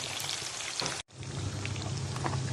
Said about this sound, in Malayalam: നമ്മൾ മാരിനേറ്റ് ചെയ്ത് വെച്ച ചിക്കൻ 1 മണിക്കൂറിന് ശേഷം ആവശ്യത്തിന് വെളിച്ചെണ്ണ ഒഴിച്ച് വറുക്കാനായിട്ട് വെച്ചിട്ടുണ്ട്.